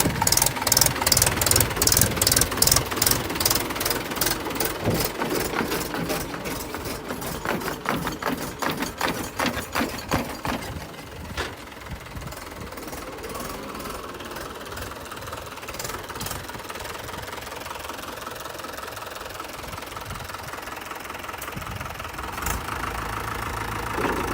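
A tractor engine pulling a rotavator in a wet field knocks loudly and rhythmically at first, then settles into a quieter, steady running drone for the rest of the stretch.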